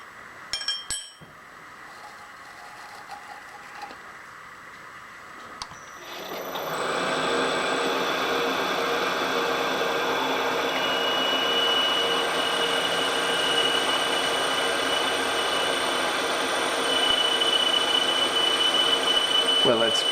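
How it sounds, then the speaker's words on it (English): A drill bores a hole in an aluminum intake manifold. After a few clinks and handling knocks, a steady whirring tone starts and keeps going at an even, moderate level. "and drill our second hole."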